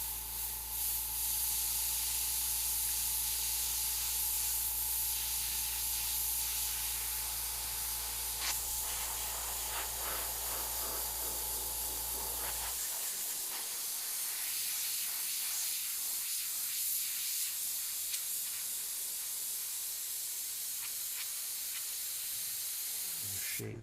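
An airbrush sprays paint over a stencil in a continuous soft hiss, with a low steady hum beneath it for the first half, after which the hiss continues alone.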